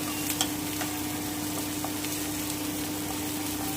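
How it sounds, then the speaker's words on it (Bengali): Onions fry lightly brown in a pan over medium heat, a steady sizzle with occasional soft scraping clicks of stirring and a faint constant hum beneath. "আমি এবারে একটু হালকা ব্রাউন করে ভেজে নিচ্ছি পেঁয়াজটা।"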